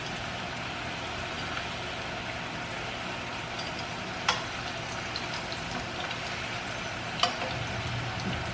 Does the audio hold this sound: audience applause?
no